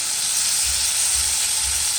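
Prawns fry in a pan with a steady, loud hiss and sizzle, with faint low thumps pulsing underneath and no talking.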